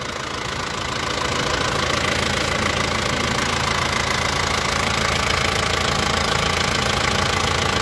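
A 2003 Isuzu Panther Touring diesel engine, automatic, idles steadily up close, a continuous rough knocking rumble with constant vibration and no voices.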